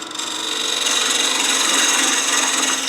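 A bowl gouge cuts a square jarrah wood bowl spinning on a wood lathe, giving a continuous bright, hissing scrape with a faint rhythmic flutter from the rotating blank, steady and close.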